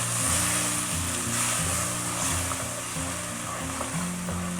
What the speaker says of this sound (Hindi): अब मैं इसके अंदर थोड़ा सा और डालूँगी और साथ साथ आहिस्ता आहिस्ता चम्मच हिलाते रहे